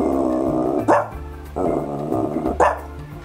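A person imitates a dog, producing two short, gruff bark-like bursts separated by pauses, close and fairly loud.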